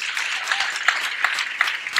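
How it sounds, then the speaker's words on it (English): An audience applauds after a talk, a steady wash of many hands clapping together with a few sharper claps standing out, fairly close and unbroken. "Let's give him a big round of applause"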